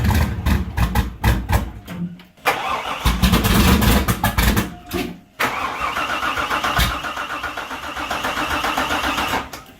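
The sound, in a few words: project car engine starting and running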